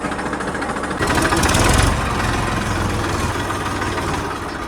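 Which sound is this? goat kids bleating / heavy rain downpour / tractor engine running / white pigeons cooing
tractor engine running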